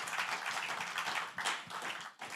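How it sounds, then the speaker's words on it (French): A church congregation claps in praise, brisk, dense, rhythmic clapping close by that carries on steadily for a couple of seconds. "Give the Lord a clap of praise."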